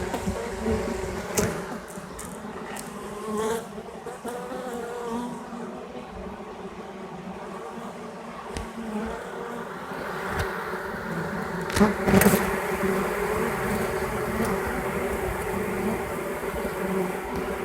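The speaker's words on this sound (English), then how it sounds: "Oh yeah, they're fanning in the box now." A honey bee swarm fans inside a hive box, a dense, steady buzzing hum that holds close and loud throughout with a few brief swells, and no talking.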